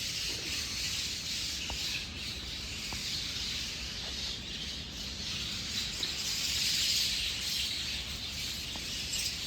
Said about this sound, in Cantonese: 到寧波門前都聽到呢度好多雀仔嘅聲啊！